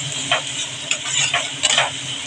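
A spatula stirs cut tomatoes into a Bengali fish curry of small rohu-type fish with ridge gourd and potato, giving a few soft scraping strokes over a low background sizzle.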